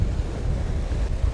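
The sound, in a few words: ocean waves breaking on the rocks at Cape Banks, Sydney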